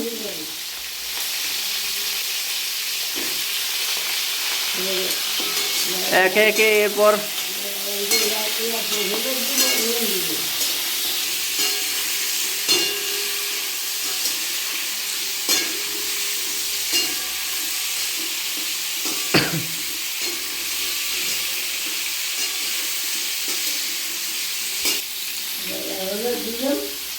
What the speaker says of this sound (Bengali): এবার কড়াইয়ের মধ্যে আম